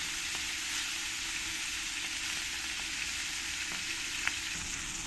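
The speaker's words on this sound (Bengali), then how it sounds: "মাছগুলো আবার ফ্রাই করা হয়ে গেছে" Rohu fish belly pieces fry in a pan of hot oil with a steady, broadband sizzle that holds evenly throughout, broken only by a few faint pops and one sharper crackle near the end; no voices.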